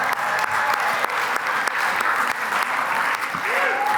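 Applause from the audience at a performing arts awards ceremony, a full, sustained round of clapping with whoops and a voice or two rising over it near the end.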